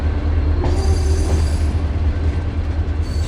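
Amritsar-Bikaner Superfast Express train running, a steady loud rumble of wheels on track with squealing and rattling carriages, continuous and close throughout.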